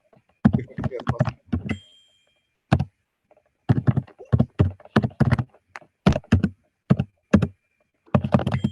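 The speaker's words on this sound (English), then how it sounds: "there was a lot of keyboard uh, key clicks" Computer keyboard keys clack in uneven bursts of sharp clicks, loud and close, with short pauses between clusters of typing.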